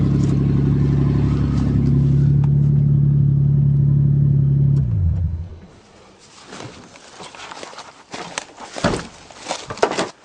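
An old Toyota car, abandoned for seven years in a forest, idles loudly and steadily for about five seconds, then the engine cuts off, leaving scattered rustling and handling noises.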